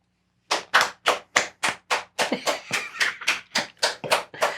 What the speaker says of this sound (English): The one thing I do a big clap. That way I have huge audio spikes on here.